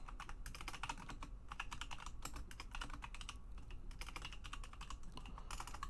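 Steady, fast typing on a computer keyboard, continuous dense key clicks at close range with brief pauses, no voices.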